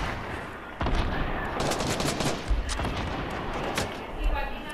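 Rapid bursts of gunfire from a shooter video game crackle continuously and loudly, with heavier blasts layered into the steady barrage and a voice talking underneath.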